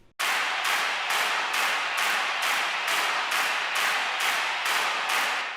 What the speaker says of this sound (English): And then some crowd noise and claps just with a lot of reverb on them.